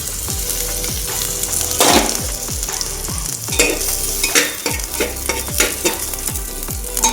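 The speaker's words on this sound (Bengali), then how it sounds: "একটু আদা দিলাম, আদাটা নাড়াচাড়া দিয়ে দিলাম" Crushed ginger frying in hot oil, a loud continuous sizzle close up with regular knocking strokes of a spoon stirring against the pan, no one talking.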